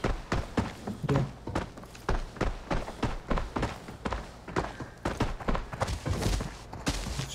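Rapid bursts of gunfire in the video game Arena Breakout crackle steadily, sharp repeated shots and thuds with no talking.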